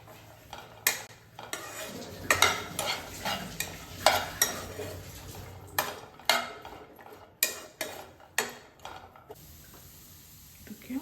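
Bitter gourd frying in a pan for gojju, with repeated sharp spatula scrapes and clanks against the pan over a faint sizzle, irregular bursts close by, then a quieter hiss at the end.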